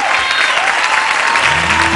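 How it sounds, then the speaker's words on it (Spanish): Loud, dense studio audience applause on a Spanish-language television beauty pageant, a continuous wash of clapping and crowd noise that fills the whole moment without pause. "Fuerte el aplauso para ellos"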